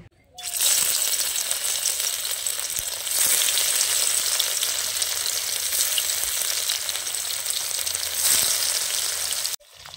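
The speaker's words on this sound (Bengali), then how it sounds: "কড়াই বসিয়ে দিয়েছি উনুনে। এখন এই ঢোকলাগুলো ভেজে নেব।" Egg and cabbage dhokla pieces fry in hot oil in a wok, giving a loud, steady sizzle that runs almost unbroken for about nine seconds before cutting off abruptly near the end.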